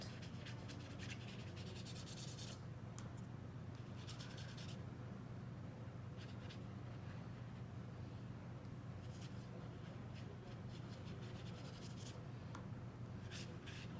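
A brush rubs and spreads watercolor across wet paper while painting a background, soft continuous scratchy strokes with brief brighter swipes, faint and close over a low steady hum.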